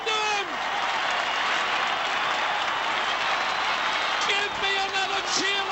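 Football crowd roaring and cheering in a packed stadium during a 2001 North Melbourne versus Essendon match after a goal, a loud sustained wall of cheers and clapping with an announcer's voice cutting across it.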